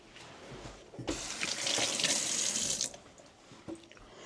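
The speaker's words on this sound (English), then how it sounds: "Wash my hands." Water from a kitchen sink tap runs steadily for about two seconds while hands are washed beneath it, with quieter splashes before and after.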